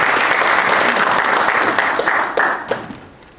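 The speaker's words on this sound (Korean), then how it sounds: "우리 오글 코리아의 김용 회장 박수 한번 쳐야 되는데" Audience applause at a defense-industry meeting with an invited procurement agency head, a loud dense patter of many hands that thins out into a few scattered claps and fades away.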